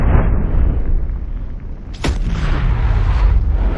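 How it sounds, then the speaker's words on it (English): A single loud, deep boom from a black powder pistol, fired once mid-clip over a constant low rumble of background noise, with a short ringing tail. "the black powder pistol in 3, 2, 1"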